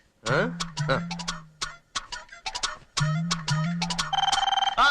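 A mobile phone rings in a home with family chatter, its tonal, repeating electronic ring pulsing quickly toward the end after earlier voiced and tonal bursts.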